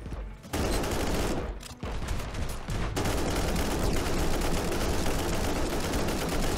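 A deployed turret in Warhammer 40k: Inquisitor - Martyr fires steady, rapid automatic bursts with only a couple of brief gaps, loud and close and continuing through to the end.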